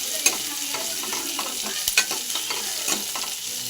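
Curry leaves and onions fry in hot oil, giving a steady close sizzle with occasional stirring clinks and scrapes.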